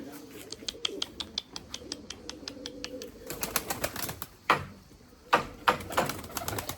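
Breeding pigeons in a large loft coo softly and repeatedly, with bursts of wing flapping and sharp fluttering clatter in the second half, close and fairly quiet.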